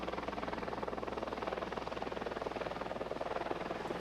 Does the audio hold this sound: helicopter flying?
yes